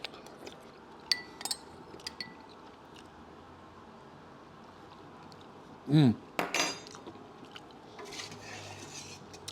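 A spoon clinks against a dish while someone finishes eating Texas cowboy beans and cornbread; a few light metallic taps and scrapes, close but faint, in an otherwise quiet room.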